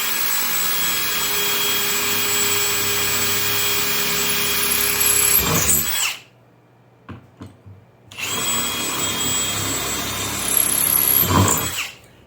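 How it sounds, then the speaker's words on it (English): A power drill fitted with an aggressive DeWalt-type wood bit with a guide tip bores into wood for a cabinet hardware jig, running loud and steady for about six seconds, pausing briefly, then whining through a second long pass. "I'm using an aggressive DeWalt type wood drill bit."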